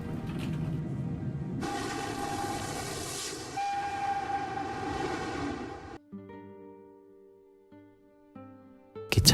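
Train rumbling past with a loud, sustained horn blast midway, then a quieter tonal horn-like stretch as it recedes, from a film scene of a train accident; no talk.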